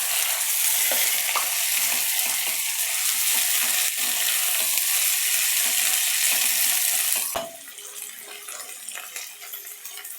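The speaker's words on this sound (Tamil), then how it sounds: "தக்காளி நல்லா சாஃப்டாக வதங்கட்டும்." Tomatoes sautéing in hot oil in a pan for brinjal gravy, a loud steady hiss and sizzle with light stirring clicks that drops to a softer, lower sizzle partway through.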